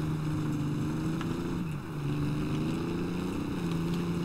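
Boat engine droning steadily while driving in Battlefield 3, a close, continuous motor hum with wind and water noise, briefly dipping then resuming.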